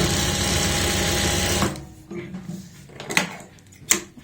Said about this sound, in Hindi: ऐसे पलटते हुए यहाँ पे सिलाई लगा लेंगे ऊपर से।